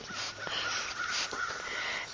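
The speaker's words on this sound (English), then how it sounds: "You hear my crows in the back. They're hollering because they want to go and eat." Crows caw repeatedly in the background, harsh calls overlapping in an uneven rhythm against a steady outdoor hiss.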